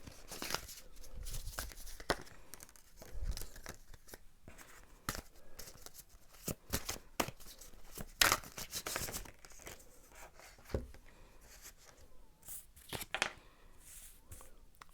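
Tarot cards shuffled by hand, a close, quiet run of irregular papery slaps, riffles and snaps with brief pauses between.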